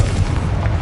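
A Confringo blasting spell in a Harry Potter video game lands as a short, heavy, low boom, one close explosive thud with a brief rumbling tail.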